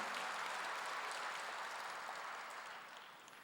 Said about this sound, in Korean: 박수로 하나님께 영광을 돌려야죠.